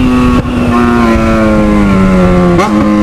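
A Yamaha XJ6 motorcycle engine idles loud and close with a steady pitched drone, rising slightly and then blipping sharply with a quick rev near the end.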